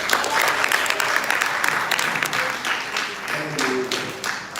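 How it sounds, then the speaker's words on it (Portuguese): Sustained applause from a church congregation at a Sunday family service, dense broadband clapping that fills the whole stretch at steady loudness, with faint voices mixed in. "Você pode aplaudir o Senhor mais forte?"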